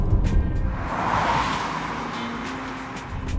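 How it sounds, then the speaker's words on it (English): Steady broadband road and tread roar from BF Goodrich Advantage TA Sport grand touring all-season tires while driving, a continuous close hiss and rumble inside the car with no talking. "I'm driving on the car equipped with the BF Goodrich Advantage TA Sport"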